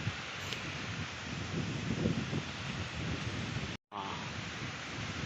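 A strong storm blows wind and rain with thunder, a loud continuous roaring rush with low rumbling, broken by a brief dropout near the end, while a person gives a short exclamation.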